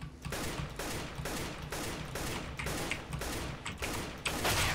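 Gunfire in the video game CS:GO, with repeated bursts of rapid shots in an even rhythm over a constant background, loud and close.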